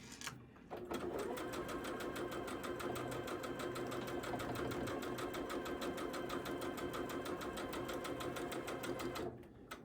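A sewing machine runs steadily for several seconds, a fast, even mechanical stitching rattle, starting and stopping abruptly, heard alone at close range.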